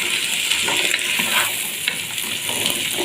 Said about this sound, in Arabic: الفول بتاعنا بلدي هننزل بيه كده في قلب البصله كده ونسوي فيه كده.